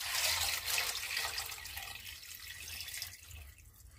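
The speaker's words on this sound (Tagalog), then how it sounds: "To that, maglalagay tayo ng water." Water pours into a cooking pot for pork buto-buto nilaga, a strong splashing rush that gradually thins and quiets toward the end.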